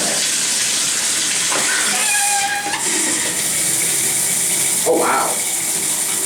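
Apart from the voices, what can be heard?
shower water running in a hotel bathroom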